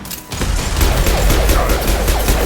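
Heavy combat fire in a Mass Effect 2 battle: loud, close bursts of rapid shots and impacts layered into a continuous, chaotic barrage with no voices.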